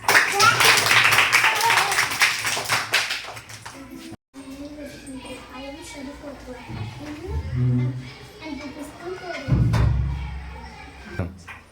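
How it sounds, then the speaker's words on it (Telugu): Students at a school science day event clap in a brief burst of applause, followed by a person talking with occasional thumps and taps. "very good claps"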